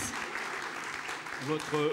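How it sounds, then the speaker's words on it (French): A crowd claps steadily throughout, a dense patter of applause with a voice speaking over it near the end. "Oui, vos applaudissements, ça le mérite."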